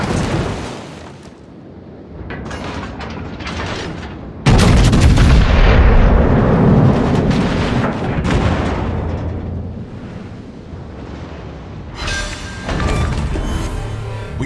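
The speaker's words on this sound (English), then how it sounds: "fire on the enemy warship" Naval guns on a warship firing on an enemy warship in a naval combat game: repeated heavy booming salvos with deep rumbling tails, a huge loud blast near the middle and continuing rolling thunder of gunfire, close and powerful.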